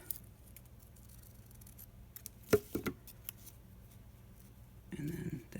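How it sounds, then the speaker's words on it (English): Scissors snipping the ribbon tails of a handmade DIY craft bow: a couple of quick, close, crisp cuts in a quiet room, followed by brief rustling of ribbon. "Give them a little bit of a snip."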